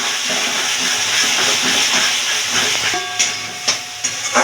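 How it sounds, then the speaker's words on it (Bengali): Water poured into a hot pan of katla fish curry sets off a loud, close hissing burst of steam that settles into bubbling sizzle with a few sharper spits near the end. "দিয়ে একটু নাড়াচাড়া দিয়ে কিছুক্ষণ নাড়াচাড়া দিয়ে এবার দিয়ে দেবো আমি অল্প পরিমাণে জল"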